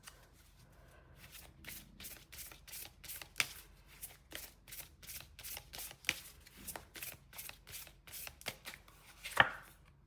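Tarot cards are shuffled in a quick, steady run of crisp riffling snaps, close and quiet, with a few sharper taps standing out and no talking.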